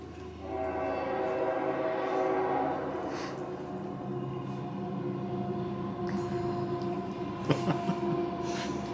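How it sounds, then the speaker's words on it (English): A train rumbles past in the distance at night near Banff, with a steady low drone and tonal hum, a sharper clank or squeal rising briefly near the end. "Hear the train?"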